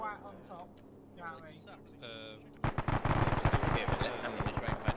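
Machine gun fire in a WW2 Battle of Tarawa video game starts abruptly midway and rattles on in rapid, loud bursts, after some voice and game sounds at the start.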